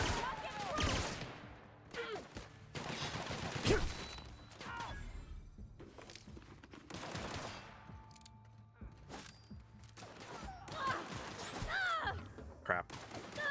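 Shot cannon blasts in a video game, several heavy booming volleys spaced across the stretch, fairly near, mixed with crashes and talk from players.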